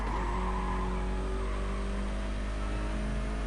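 GT race cars in a DRL GT round at Brands Hatch, a BMW and a Mercedes among them, driving down through Paddock Hill: a steady, loud engine drone with whining tones runs throughout, no pauses.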